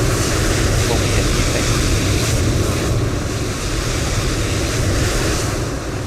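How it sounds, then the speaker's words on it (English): Jet blast from an aircraft in Microsoft Flight Simulator 2024, a loud, continuous broadband roar like rushing wind, steady throughout with slight swells. "Jet blast is loud."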